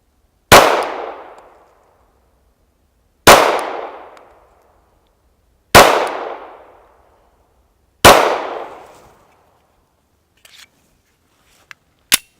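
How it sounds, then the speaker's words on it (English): Glock 43 single stack pistol fired at a steel plate: four loud, sharp shots spaced about two and a half seconds apart, each with a decaying ring, followed by a few small clicks. "let's keep shooting. 4 more for this plate."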